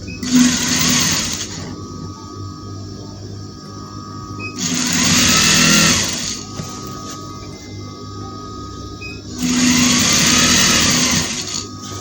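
A sewing machine stitches the joining seam of a dress panel in three loud, steady bursts of rapid mechanical whirring, each about one to two seconds long, with quieter pauses between them.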